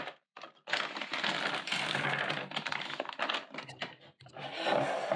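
Dense crinkling and rustling of candy wrappers being opened, with small clicking, rattling candies dropped into a pot, continuous and close, with brief pauses between bursts.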